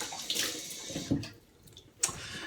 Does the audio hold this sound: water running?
yes